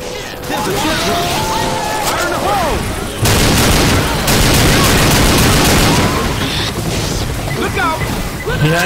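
Gunfire in the video game Left 4 Dead 2, Hard Rain holdout mutation: continuous rattling shots with crashing impacts and rushing noise, loud and close, while several voices shout over the fighting.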